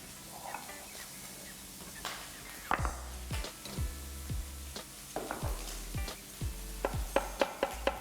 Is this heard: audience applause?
no